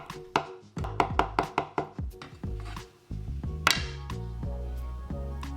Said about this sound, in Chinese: 豆瓣剁碎剁细备用。